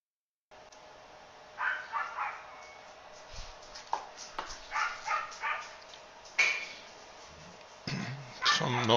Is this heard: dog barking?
yes